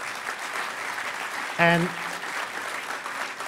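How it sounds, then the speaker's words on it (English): Audience applause fills a closing ceremony at the Hackers On Planet Earth 2012 conference, a steady crowd wash throughout, with a brief spoken word cutting in over it near the middle. "So big round of applause for him."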